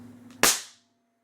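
A single sharp, snappy shot from a .177 air rifle firing a pellet, brief and fairly close, with a short decaying tail after faint background hum.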